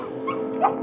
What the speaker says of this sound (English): And the dog Fluff, suddenly cured of laryngitis and barking